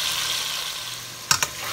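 Steady hiss and crackle of soy-sauce-marinated steak frying in hot oil, close by, with two quick sharp pops near the end.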